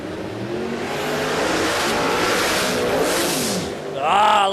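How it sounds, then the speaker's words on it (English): Radial shootout drag cars launch off the start line at Warwick Dragfest, rising into loud revving roars that swell and fade, ending with a sharp high tyre squeal, with a commentator talking over the noise. "Baker takes it out, gets off the line very nicely, but unfortunately for Ben Taylor, blew the tyres off it"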